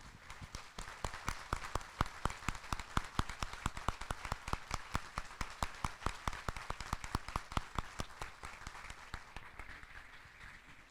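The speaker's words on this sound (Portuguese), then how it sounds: "Uma salva de palmas para o nosso querido Manuel Emídio" Audience at a congress claps in rhythmic unison, sharp evenly spaced beats repeating steadily for several seconds before thinning out toward the end.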